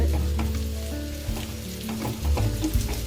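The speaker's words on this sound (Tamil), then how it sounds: "பாருங்கள், நல்லா கொதிச்சிட்ருக்குது." Andhra-style coriander thokku bubbles and sizzles steadily in a pan, a continuous close frying hiss with small pops and no voices.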